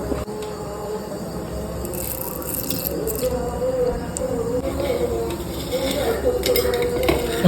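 Mustard seeds sizzle and crackle in hot coconut oil in a curry pan, with bright popping bursts over a continuous frying hiss and a few light scrapes of the pan.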